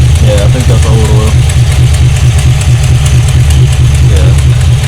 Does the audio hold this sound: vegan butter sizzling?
no